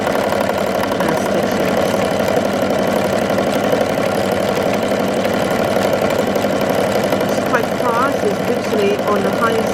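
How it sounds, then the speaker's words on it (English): A Brother Innovis NV1800Q sewing machine runs at its highest speed, a steady continuous whir with a voice talking over it throughout. "So I'm going to sew that now"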